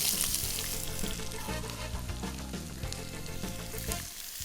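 Onions hit a hot pan that already holds toasted pine nuts and oil, and a strong, close sizzle swells and then holds steady, with faint stirring over it.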